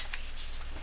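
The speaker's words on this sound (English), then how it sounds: "Okay, I have to shuffle up again." Tarot cards shuffled by hand at a live reading, a brief, close riffle of papery flutters and soft slaps, heard alone without talk.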